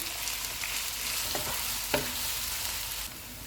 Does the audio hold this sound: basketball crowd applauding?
no